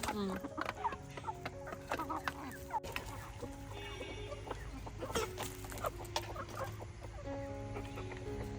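Chickens clucking repeatedly nearby, with scattered bird calls and faint background voices mixed in.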